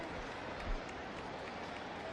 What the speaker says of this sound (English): the Texas Southern players are clapping their hands